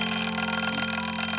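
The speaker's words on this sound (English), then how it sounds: "just as her alarm went off" An egg timer's alarm rings loudly and steadily, a continuous electronic chiming buzz filling the short moment with no pauses and no voices.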